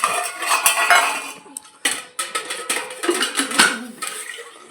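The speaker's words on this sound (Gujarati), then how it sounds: "તો હાલો છાશ નાખી દઉં વાટકામાં" Buttermilk is poured into a bowl among dishes, with close, bright clinks and taps of metal bowls and cutlery in uneven bursts and no talking.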